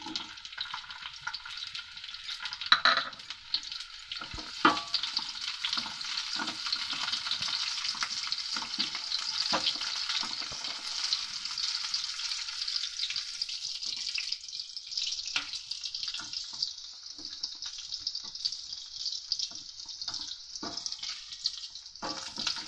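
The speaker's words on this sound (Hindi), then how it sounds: "प्याज को फ्राई करेंगे।" Onions fry in two big spoonfuls of oil for a dhaba-style egg curry, a bright continuous sizzle that starts loud and thins a little as it goes on, with occasional spoon scrapes and no voices.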